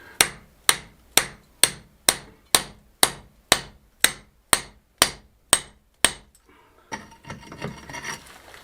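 A hammer chips old mortar off an ancient stone chicken house in a steady run of about twelve sharp, evenly spaced blows, followed by a few seconds of scraping and rubbing.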